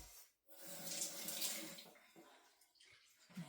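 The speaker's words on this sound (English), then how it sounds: "Now, I'll put in a tiny bit more water." Water pours from a tap or container into a soup maker holding a paste-like blend, giving a close, hissy gushing splash that swells for about a second and a half and then trickles off.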